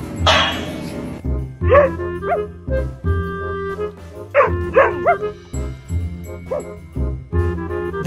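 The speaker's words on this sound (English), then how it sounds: "Consistent barking contest." Several dogs bark back and forth in a loud, steady contest of sharp woofs and yips, with short bursts spaced through the clip and a faint jingle at the start.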